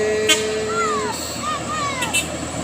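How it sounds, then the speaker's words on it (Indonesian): A Pertamina fuel truck climbing a hill as it passes on a winding road, a heavy diesel rumble with a couple of short horn toots and a whining pitch that rises and falls, with someone talking over it. "Oke, ini dia truk Pertamina langsung"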